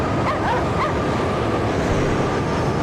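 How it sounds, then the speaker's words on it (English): Several dogs in the video game Cryostasis barking and yipping excitedly over a dense, noisy background, steady and continuous throughout. "Those dogs definitely sound very excitable."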